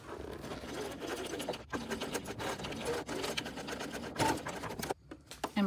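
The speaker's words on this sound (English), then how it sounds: "I'm going to sew all the way across the first time and then sew a second time reinforcing that connector" A sewing machine runs a reinforcing seam across a tote bag joining the base and side layers, with a steady mechanical whir and rapid needle ticking that carry on almost without a break and then stop briefly near the end.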